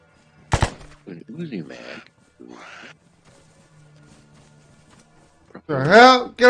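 A short burst of Uzi fire in the survival game DayZ rings out near the start, sharp and loud, followed by quieter game noises and then someone talking loudly over the end.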